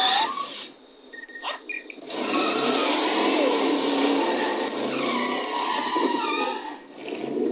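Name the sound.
car skidding and revving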